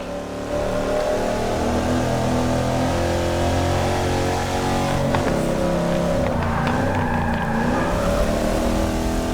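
A Chrysler 300 engine in Forza accelerates hard and steadily for a straight-line run, its rising revs holding loud and close throughout with a gear change partway.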